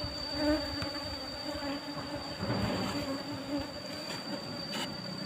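Asian honey bees (Apis cerana) buzz continuously close by as a colony is moved into a hive box, a dense droning hum with a few louder passes drifting near.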